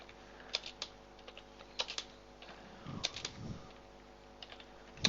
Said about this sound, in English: So I type here air 1,